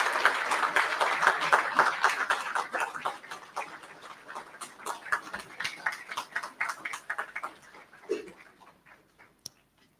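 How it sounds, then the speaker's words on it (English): Audience applauding at a medical school white coat ceremony, a dense patter of claps that builds briefly and then thins out into scattered claps before fading. "I am going to ask for the faculty to stand and for a round of applause for this amazing group of doctors"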